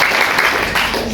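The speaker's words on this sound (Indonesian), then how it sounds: "Tepuk tangan untuk Aira." Brief burst of group applause, loud and close, with voices mixed in.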